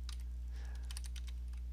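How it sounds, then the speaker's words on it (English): Quiet keystrokes on a computer keyboard while entering C++ code in main.cpp, a short run of light, irregular taps over a steady low hum, with no one talking. "we accomplish that by typing the word cout, two less than signs"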